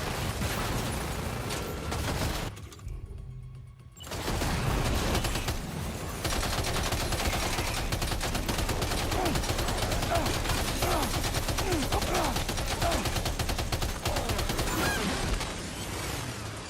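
Dense bursts of automatic gunfire in the video game Death Stranding 2 rattle almost continuously, broken by a short lull early on, then resume loud and sustained with scattered impacts.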